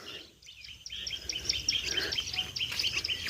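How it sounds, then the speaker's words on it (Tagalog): Many small birds chirp and tweet in quick overlapping bursts, bright and busy, over a faint hiss of background noise. "Daming ibon, oh."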